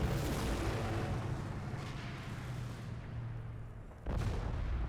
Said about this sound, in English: Or is that the mortar fire?